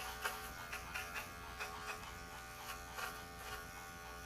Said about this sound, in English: You can see how easy it is to just kind of rotate this clipper around and go through all of her pads.